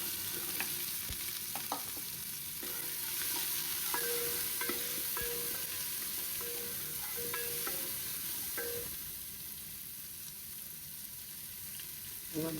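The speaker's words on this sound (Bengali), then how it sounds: "পেঁয়াজটা ভাজা দিয়ে নিচ্ছি" Onions frying in a pan while beef curry is cooked, with cloves added, giving a steady close sizzle broken by scraping stirs and light utensil clinks throughout, with no talk.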